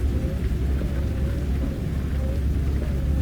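Steady rain on a stormy night with a low rumble of thunder, heard as a continuous loud wash of noise and deep rolling underneath, with no voices.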